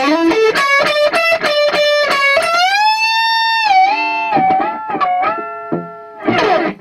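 Distorted electric guitar plays a riff at modest volume, with rhythmic repeated chords, a sustained bend in the middle and choppy stabs at the end, heard alone.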